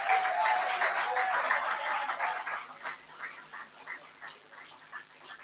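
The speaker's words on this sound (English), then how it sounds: "So I need you to give a resounding applause once again." An audience at a medical and dental school induction ceremony applauds, with dense clapping at first that dwindles into scattered, separate claps, with some voices mixed in.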